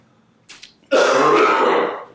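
A faint short rasp, then a loud, harsh throat clearing close to the mic, lasting about a second before fading.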